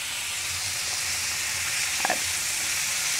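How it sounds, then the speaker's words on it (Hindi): Garlic-ginger paste sizzles in a frying pan over onion and a little tomato, giving a steady, close hiss with faint stirring clicks and no talk. "इस समय मैं डालूँगी लहसुन अदरक का पेस्ट"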